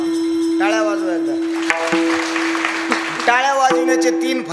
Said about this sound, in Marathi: टाळ्या वाजवा एकदा.